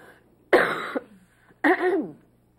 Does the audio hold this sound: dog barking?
no